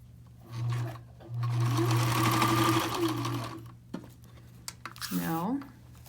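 Sewing machine stitching fleece mittens, heard as two short, loud, close bursts of motor whir followed by a person talking.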